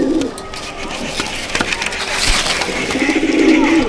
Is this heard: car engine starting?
no